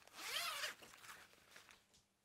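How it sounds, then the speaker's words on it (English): A water-repellent YKK zipper on a Monsoon Gen.2 jacket is pulled in one quick, close zipping stroke, followed by softer fabric rustles that fade out. "So flap underneath the zipper, water repellent YKK zipper, and on top a very wide flap which covers the water repellent zipper."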